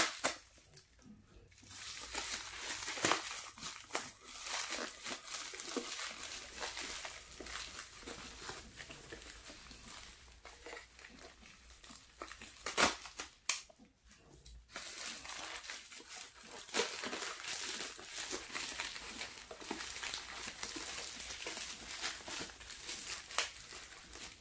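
A mail envelope is handled close by, with crinkling, crumpling and tearing of paper in uneven bursts and brief pauses, fairly quiet, with no talk.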